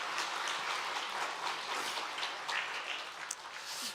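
Congregation at a Christmas church service claps for baptism candidates, a soft, fairly distant patter of many hands that stays even and continuous.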